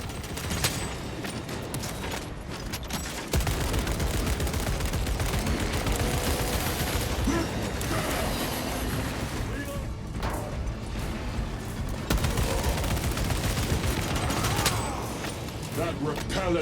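Sustained automatic gunfire and crashing impacts in the Warhammer 40K: Space Marine 2 battle, a loud continuous barrage with a rise partway through, while voices speak over the din.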